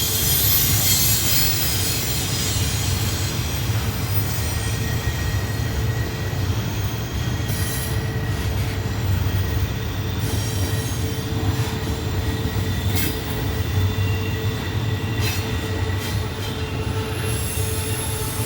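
Loaded coal train cars rolling steadily past on Horseshoe Curve in Pennsylvania, with a continuous loud rumble, rhythmic wheel clatter and recurring high wheel squeals on the curve, close by and uninterrupted.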